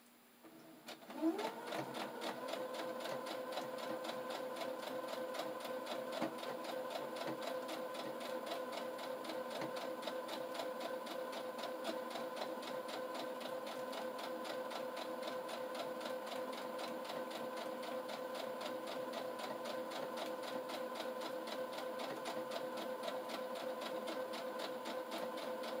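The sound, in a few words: sewing machine stitching fabric pouch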